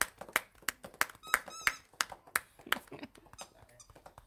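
A dog gives a few high, thin squeaks amid a string of sharp taps and clicks, fairly close and moderately quiet.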